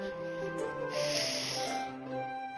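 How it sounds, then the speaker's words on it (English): A person blows their nose, a hissing, snorting blast of air lasting under a second amid a sustained tonal background hum. "let me blow my nose before I read this"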